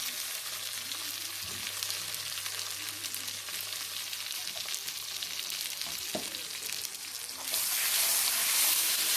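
Turmeric and salt fry with spices in a pan, giving a continuous quiet sizzle and occasional stirring taps that swell louder near the end.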